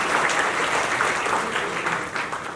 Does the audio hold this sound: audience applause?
yes